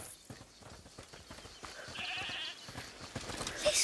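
A goat bleats a few times amid clattering, busy game-like background sounds in A Plague Tale: Requiem, fairly close and moderately loud.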